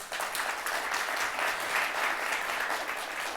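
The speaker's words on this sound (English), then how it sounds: "Please give him a round of applause." An audience applauds a keynote speaker, a steady, full wash of clapping from a hall crowd that holds evenly throughout with no talking over it.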